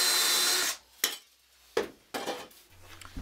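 Aluminium pieces are sanded toward a matte finish: a burst of harsh abrasive scraping gives way to a few scattered clinks and rubbing sounds, fairly quiet and close.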